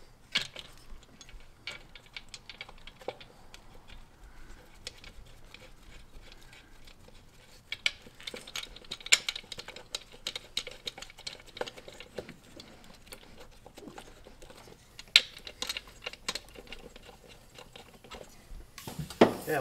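Bolts on the throttle body of a 2010 Subaru Forester engine get tightened, giving scattered quiet ratcheting clicks and small metallic taps close by.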